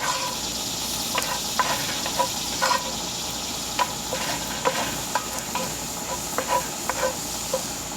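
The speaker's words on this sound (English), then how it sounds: "Go ahead and add the garlic and the ginger now. Give it a good stir." Garlic, ginger and onions sizzle in a pan for chicken tikka masala while being stirred, a constant close hiss broken by repeated sharp clicks and scrapes of the spoon.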